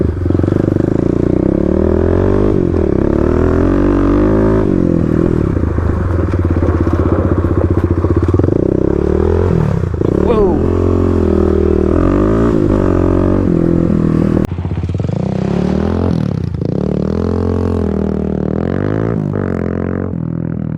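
A Kawasaki KLX351 dirt bike engine revving hard through slides and drifts, loud and close, rising and falling in pitch with throttle blips and gear changes, with a brief dip partway through.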